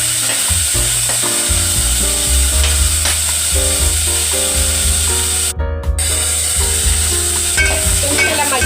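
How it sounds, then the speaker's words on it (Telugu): Large tomato pieces cooking in hot tempering oil for dal cucumber rasam, a loud steady sizzle with rhythmic scraping and stirring strokes in the pan and no talking. "కొంచెం తాలింపు అంతా ఆయిల్లో ఒక 2 మినిట్స్ పాటు మగ్గనిద్దాం."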